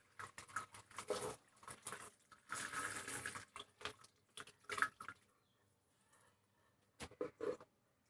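Water from a tap splashes quietly in short, irregular bursts separated by brief pauses.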